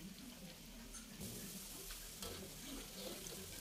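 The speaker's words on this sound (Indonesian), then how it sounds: "Dipotong dadu lalu digoreng sampai berkulit ya." Diced potatoes fry in oil with a steady, soft sizzle, faint and continuous, with a few brief scrapes of stirring partway through.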